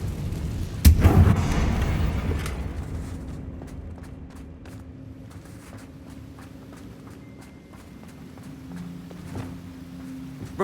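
A Confringo fire spell blasts off in Hogwarts Legacy as one sharp, loud burst with a rumbling tail fading over a second or two, followed by quieter footsteps and ambient game sounds.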